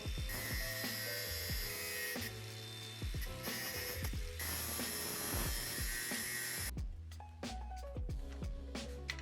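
A ratchet clicks steadily as the ignition coils come off a Suzuki GS1100G motorcycle, the pawl chattering in fast bursts. The sound is close and busy and runs the whole time with no talk.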